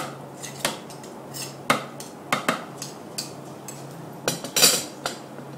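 Tahini and lemon juice are scraped into a bowl for vegan hummus: a spoon or spatula scrapes and clinks against the bowl in irregular, sharp, close taps, with quiet gaps between them.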